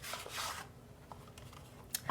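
Tarot cards being shuffled by hand, with a few soft riffling and rubbing bursts near the start and again near the end, quiet and close with no talking.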